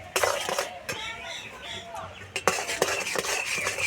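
Jaggery and puffed rice mixture stirred in a pan, with repeated scraping and clinking of a spoon against metal in an uneven rhythm, close and moderately loud, with a voice talking over it.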